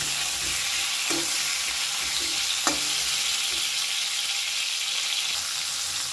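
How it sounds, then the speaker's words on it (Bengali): Pointed gourd pieces fry in oil in a pan, a loud continuous sizzle broken by a few spatula scrapes and clacks as the pieces are turned, with no voices. "উল্টে পাল্টে একটু ভাজতে হবে।"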